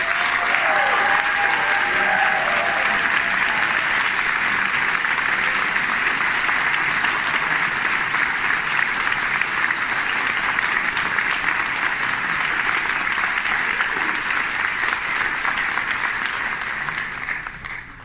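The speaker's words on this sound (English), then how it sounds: "to give them a good welcome by giving them a big round of applause" Long, sustained round of applause from an audience at a fundraiser welcoming newcomers, a dense uniform roar of clapping holding steady for many seconds before tapering off at the end, brief voices near the start.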